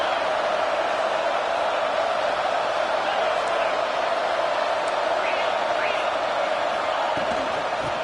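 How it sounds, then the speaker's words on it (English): A college football stadium crowd roars for the defense in the red zone, a dense, steady wall of noise with scattered whoops inside it. "And the crowd coming to life here, trying to help this defense down in the red zone."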